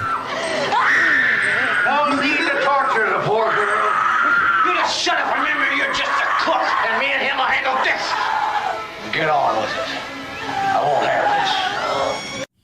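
A woman screams and shrieks in The Texas Chainsaw Massacre horror film, with loud, sustained, piercing cries repeating through the scene over other film sound.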